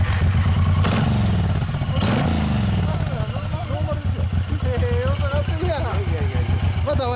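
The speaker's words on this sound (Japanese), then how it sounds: "エンジン音聞かせてもらえますか" A 2016 Suzuki Boulevard M109R motorcycle's big engine revs loudly nearby, swelling twice before settling into a rapid, lumpy idle, with people talking over it.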